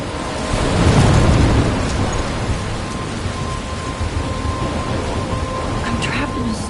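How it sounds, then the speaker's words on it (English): A thunderstorm in a PS4 video game, with a heavy rumbling thunder swell early on over steady loud rain hiss that continues throughout, and some speech mixed in. "I'm trapped in a storm?"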